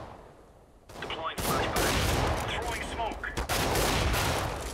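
Bursts of rifle fire in a CS:GO match, with repeated loud gunshots and rapid volleys that crackle from about the first second to the end, and a quieter lead-in before the shooting starts.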